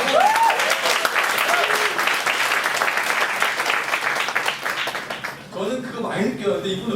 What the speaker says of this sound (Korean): 박수 한번 쳐야 돼 이거